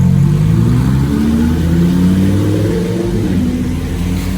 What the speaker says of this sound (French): On va voir s'il fait une petite accélération.